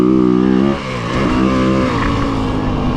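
A 2026 Yamaha WR250F dirt bike engine runs loud and close while riding, a buzzing revving drone that dips briefly as the throttle eases off, then holds steady through the corner under engine braking.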